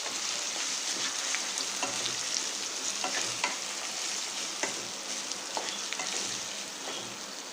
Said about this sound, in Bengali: পেঁয়াজের সাথে একটু মিশিয়ে নেব।